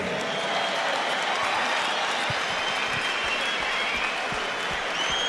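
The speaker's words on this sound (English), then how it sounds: "Ladies and gentlemen, another round of applause for these two warriors this evening." Applause from a boxing crowd after a ten-round heavyweight bout, a dense steady wash of clapping that fills the hall without pause, with faint voices mixed in the background.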